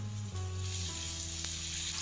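Tomato and onion cooking in a covered pan give a close, steady sizzle with a low hum under it and one brief tap, no voices.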